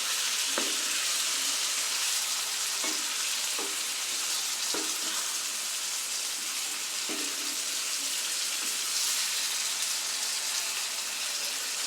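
Marinated chicken frying with sautéed onions in a pan for Tamil-style chicken sukka: a loud, steady sizzle fills the whole stretch, broken by several sharp scrapes and clacks of a spoon stirring, close by with no talk.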